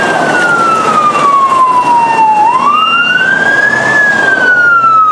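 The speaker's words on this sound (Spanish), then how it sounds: "Varios sonidos de ambulancias se escucharon en el día de hoy en el municipio de Arauca" A loud wailing ambulance siren sweeps down in pitch and then rises again, steady and continuous, with traffic rumble underneath, during a hospital emergency drill in Arauca, Colombia.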